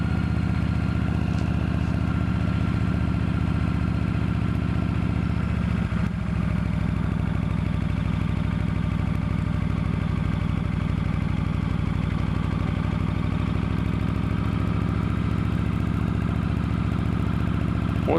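An old vehicle's engine idles along and grunts up a hill on a drive from Marietta to Kennesaw, a steady low rumble that holds close and unbroken for the whole stretch.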